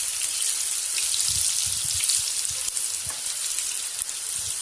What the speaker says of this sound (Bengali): আলুটা দিয়ে দিলাম, আলুটা লাল লাল করে ভেজে নেব।